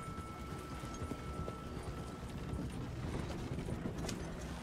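Horse hooves gallop at a steady rhythm in Red Dead Redemption, a continuous dense clatter under wind and ambient noise.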